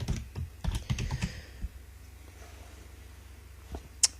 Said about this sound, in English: so type add child